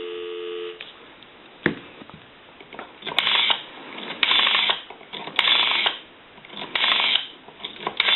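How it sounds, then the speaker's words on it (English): A brief dial tone on a Kellogg Redbar rotary desk telephone, followed by clicks and bursts of line noise as buttons are pressed, heard through a narrow phone line. "I'll give you some dial tone."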